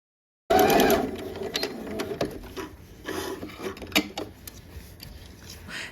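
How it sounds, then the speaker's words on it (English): A sewing machine stitches a vest seam, starting abruptly after a moment of silence and running in a close, steady mechanical whir with small clicks and rubbing of fabric. "I'm gonna drop my needle down into the dot and I'm gonna go ahead and start to stitch."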